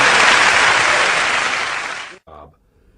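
Audience at a comedy show applauding loudly and steadily for about two seconds before the clapping cuts off abruptly, followed by a brief voice.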